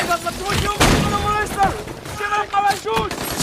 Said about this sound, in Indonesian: Tembakan demi tembakan dari ISIS menghujani mereka.